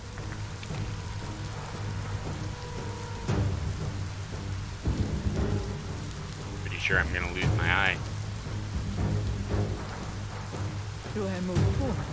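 Heavy rain pours and thunder rumbles in the video game Biomutant, a steady wash of downpour with low booming rolls, while voices talk over the storm.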